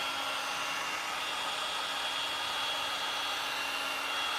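A heat gun blows hot air over fresh paint on an apothecary box, giving a steady, close, loud whooshing roar with a constant hum and no break.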